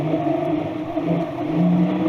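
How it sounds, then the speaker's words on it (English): A vehicle engine drones steadily and close, with a low, even hum that swells slightly as it picks up speed. "the faster we go, it's harder to hear over this engine too"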